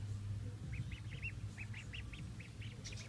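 Ducklings peep in a quick series of small high chirps, fairly faint and close, over a steady low background hum with no talking.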